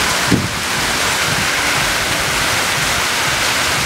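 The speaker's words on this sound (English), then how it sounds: "It is absolutely pouring right now." Heavy rain pouring down in an August thunderstorm in Parker, Arizona, a dense, loud, continuous roar with wind buffeting the microphone.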